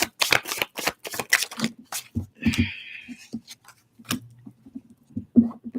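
Tarot cards shuffle in short, crisp riffling bursts close to the mic, with one longer riffle in the middle and soft handling noises between them.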